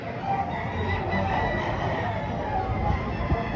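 Several gamecock roosters for sale crowing and clucking nearby, their calls overlapping against a busy, murmuring background.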